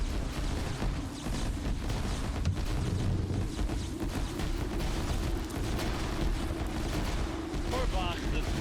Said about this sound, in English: I can still hear the gunfire with the sound